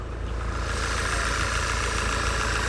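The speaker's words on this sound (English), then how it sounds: "It's definitely evened out now, it seems to be idling fine" A used car at an Australian auction yard idles after a rough start, its engine settled into a steady, even low hum that runs close and unbroken with no talk over it.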